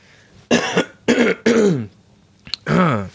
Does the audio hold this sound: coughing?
yes